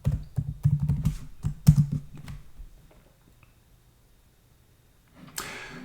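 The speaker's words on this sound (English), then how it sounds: "So I'm going to type in a political figure, and let's see what comes out." Typing on a computer keyboard to enter a query into an AI tool: a quick burst of close key clicks lasting a couple of seconds, then near silence, then a short noisy rustle at the end.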